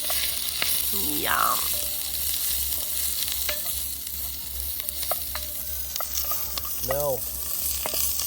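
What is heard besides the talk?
vegetables sizzling while frying in a pan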